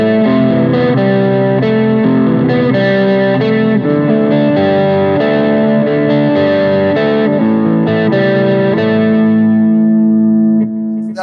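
Heavily distorted electric guitar riff, played loud and close with a steady stream of chugging notes and chords for about ten seconds before the final chord cuts off.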